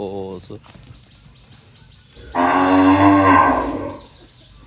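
On a farm, a young bull calf about two days old gives one long, loud moo in the middle, while earlier in the clip there are only brief quieter calls and a faint background.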